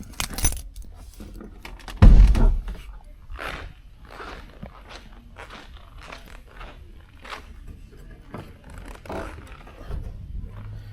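Car keys jangle and clink several times over about eleven seconds beside a 1988 Cadillac Brougham, a sharp louder burst early on, then lighter metallic shakes, close and alone with no talk.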